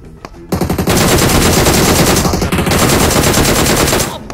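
Video-game gunfire: dense, rapid automatic bursts blaze loud and close for nearly four seconds after a brief quiet start, with no talking over them.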